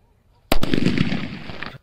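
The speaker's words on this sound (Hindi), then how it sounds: "जो अब ये बजाया सूतली बम" Sudden loud bang of a sutli bomb firecracker exploding, followed by over a second of crackling, rushing noise, then an abrupt stop after near silence.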